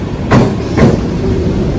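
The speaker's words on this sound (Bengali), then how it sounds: "আমাদের ট্রেন চলে এসছে, কল্যাণী সীমান্ত লোকাল।" A Kalyani Simanta local train pulls into a station, a loud close rumble of rolling stock with two distinct clattering wheel knocks over the steady noise.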